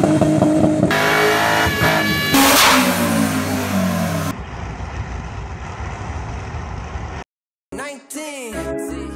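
A 1996 Toyota Supra MK4 engine revs hard, rising and falling loudly up close, then settles into a rougher lower drone, cuts out briefly and returns with a few sharp swooping revs.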